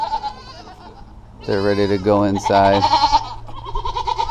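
Goats bleat loudly and close by on a farm, a few drawn-out wavering calls clustered together, with a person talking before and between them and other livestock in the background.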